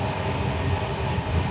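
A night train on the Basel to Budapest run rolls along its rails, a continuous close rumble and rattle inside the carriage with no break and no voices.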